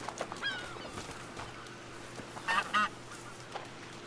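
A goose honks in the video game A Plague Tale Requiem, with two loud, close nasal honks in quick succession, preceded by a faint honk, over quiet background ambience.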